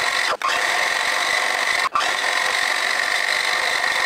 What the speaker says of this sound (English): Just going to drill the clearance holes,